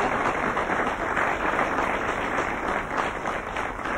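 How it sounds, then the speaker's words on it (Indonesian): A live audience claps loudly for a guest on an Indonesian comedy talk show, a dense, continuous wash of applause filling the room for the whole stretch. "tepuk tangan untuk Pak Ghazi ya"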